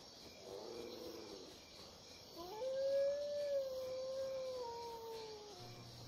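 A drawn-out howl from a puppy or wolf in the survival game Valnir Rok, starting with a few short wavering yips and then holding one long steady mournful tone over a quiet insect-like background.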